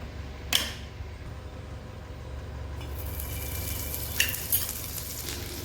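Homemade butter sizzles on a hot griddle while making kachchi dabeli, the hiss swelling partway through, with a few sharp scraping clicks from a utensil.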